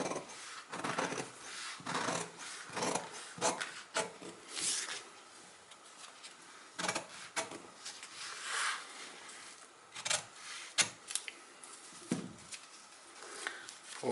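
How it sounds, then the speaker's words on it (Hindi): Scissors cut through fabric for a short blouse sleeve, a quiet, close series of rasping snips and rubbing strokes in uneven bursts with short pauses between. "तो इसको मैं थोड़ा कटिंग करके बताता हूँ"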